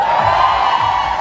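A crowd cheers and shouts loudly at a live boy band event, a brief dense roar of voices held at steady volume.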